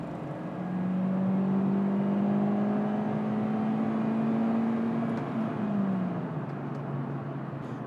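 A Kia Picanto's 1.2-litre four-cylinder engine hums and climbs steadily in pitch, holding a strained tone before easing off, moderately close with a faint whir and no talk.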